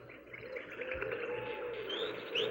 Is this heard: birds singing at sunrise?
yes